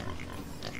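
Pigs in the farming video game Farm Together give a quick pair of grunting oinks, close and fairly loud, in under a second.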